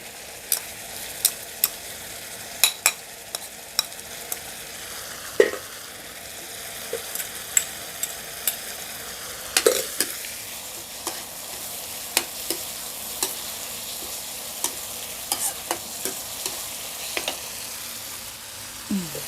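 Minced pork ribs stir-fried with holy basil and pounded chilies sizzle steadily in a hot pan, punctuated by frequent sharp clacks and scrapes of a spatula against the wok, close and clear with almost no talking.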